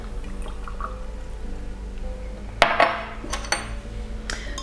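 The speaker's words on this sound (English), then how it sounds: "Just stir it in there." A spoon clinks against a glass of slightly warm filtered water as ascorbic acid is stirred in, a few sharp close taps and scrapes over a low steady background hum, with no talking.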